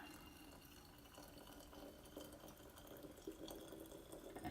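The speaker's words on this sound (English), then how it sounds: "we can go ahead and start pouring our water into our" Hot water pours steadily into a glass siphon coffee brewer, a continuous close splashing and trickling stream with no talking.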